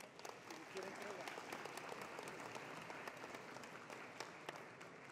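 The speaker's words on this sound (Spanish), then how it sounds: "para quien pido un fuerte aplauso" Audience applause at a petroleum and gas summit session honoring an award recipient, steady dense clapping filling the hall throughout, with some background voices mixed in.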